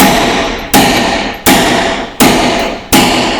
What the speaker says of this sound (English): you got the hammer almost all the way in there